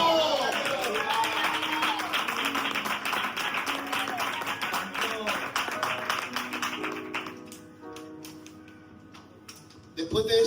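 A church congregation breaks into applause, a busy wash of many hands clapping for several seconds with a voice over it, then fading into a quieter room with a few scattered claps.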